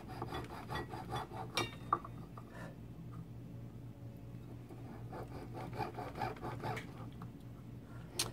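Freeform wax model being carved with a wax blade: a steady, close scraping and rasping with short sharper scrapes now and then, continuous and fairly quiet throughout.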